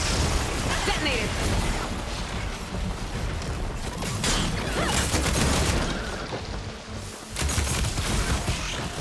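Explosions and rapid gunfire rumble through a Horizon Forbidden West battle, loud and dense for the whole stretch, with bursts, pops and mechanical clatter piling on one another.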